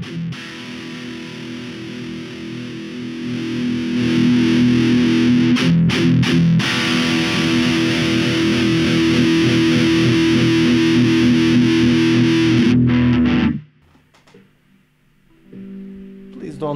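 Heavily distorted metal guitar through a GTRS GCA5 mini amplifier plays loud, dense chugging riffs for about thirteen seconds, then cuts out abruptly, leaving a near-silent gap before a brief quieter strum returns at the end.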